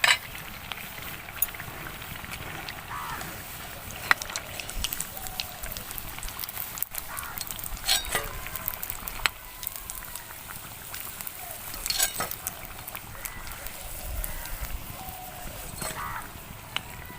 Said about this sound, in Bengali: চপগুলো আমি লাল লাল করে ভেজে নেব।